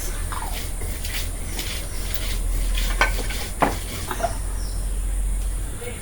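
Onions and green chilies fry in hot oil in a wok, a steady sizzle running throughout with stirring scrapes and a few sharp clinks of a utensil, close and fairly loud.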